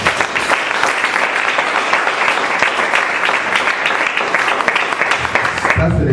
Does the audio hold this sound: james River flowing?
no